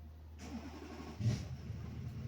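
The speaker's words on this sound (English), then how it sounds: "The old starter fired up." An old engine cranked by its starter motor turns over and catches, a quiet mechanical whirr that swells briefly into a short surge of engine noise before settling into a low, steady run.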